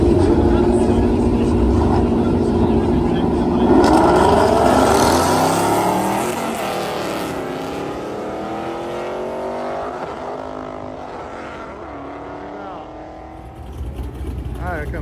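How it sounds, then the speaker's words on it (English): An S650 10-speed Mustang drag races down the strip, its engine roaring loudly and rising through quick gear changes as the sound gradually fades, with voices in the background. "there goes Chrissy versus a S650 10-speed Mustang"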